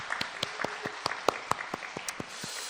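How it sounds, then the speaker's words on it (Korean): A church congregation at a Friday evening service claps in a steady unison rhythm, with about a dozen sharp, evenly spaced beats over a low room murmur. "우리 남성 성도님들 위해서 우리 격려의 박수 해주시기 바랍니다"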